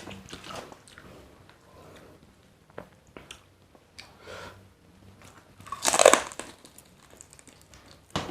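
Crispy deep-fried pork being bitten and chewed up close, with crunchy crackling bursts scattered through, one loud crunch standing out near the end; no talking.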